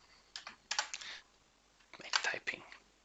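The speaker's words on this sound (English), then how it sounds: "typing." Bursts of quick, soft clicking from typing on a computer keyboard while coding, two short flurries of keystrokes separated by a pause, close and quiet.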